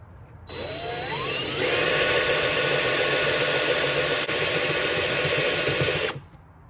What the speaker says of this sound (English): There's the pre-drill hole.